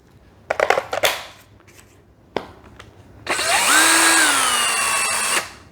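An old 18-volt DeWalt cordless drill powered through a Porter Cable battery adapter spins up and runs steadily for about two seconds close by, following a few handling clicks and knocks.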